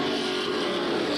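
A super stock race car engine drones at steady high revs at the start of a race, a continuous loud buzzing roar with no break and no voices.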